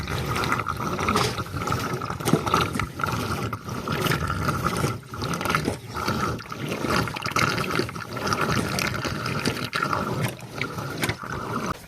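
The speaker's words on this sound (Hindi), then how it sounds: "तो मैं अभी ना किचन बेसिन में पानी डालती हूँ, देख रही हूँ कि पानी पास आउट हो रहा है कि नहीं।" Water pours into a kitchen basin and drains away, a continuous rough splashing gurgle with scattered clicks and knocks, fairly close and steady throughout.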